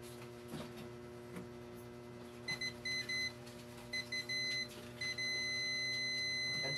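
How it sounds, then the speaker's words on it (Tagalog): A multimeter in continuity buzzer mode beeps while probing a shorted MOSFET on an Asus X409JA laptop motherboard, giving several short beeps followed by a longer sustained tone over steady electrical hum. "Buzzer mode lang natin ha, para marinig niya lang."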